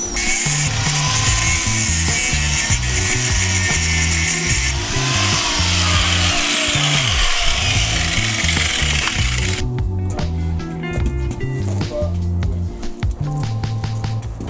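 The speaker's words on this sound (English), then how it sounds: "Get some help from my son and the aid of a grinder." An angle grinder cuts away the bumper of a rat rod, a loud, harsh high-pitched whine that dips briefly as the disc bites and then resumes with rattling, buzzing tones, close and continuous, with no speech.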